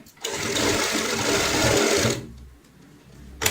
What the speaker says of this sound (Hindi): दोबारा से यहाँ से सिलाई स्टार्ट करते हैं